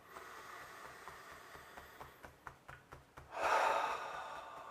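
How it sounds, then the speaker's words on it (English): A single deep, drawn-in breath comes close and clear after a few soft rhythmic taps, rising into a long airy inhale during a calm relaxation session. "deep breath"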